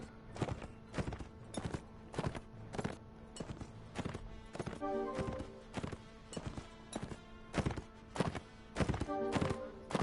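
Horse hooves clip-clop steadily in Mount & Blade: Warband, a clear regular walking rhythm of hoofbeats heard alone and fairly close throughout, without any voices.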